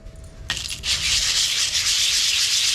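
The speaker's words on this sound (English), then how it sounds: "This is 80 grit, but it's just a sanding disc." An 80-grit sanding disc grinds against a surface with a steady, harsh abrasive hiss that starts abruptly and continues evenly, close by.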